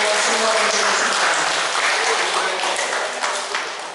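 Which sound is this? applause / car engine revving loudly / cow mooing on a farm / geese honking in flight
applause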